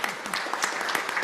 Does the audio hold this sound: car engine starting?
no